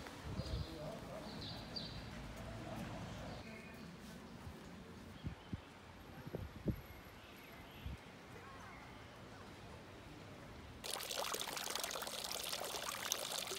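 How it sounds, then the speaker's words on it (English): Heavy rain pours down in the lakeside town of Meersburg, a steady wash of hiss under scattered knocks and faint voices, growing suddenly louder and closer near the end. "Shame it's pouring down with rain, but you know, still looks good."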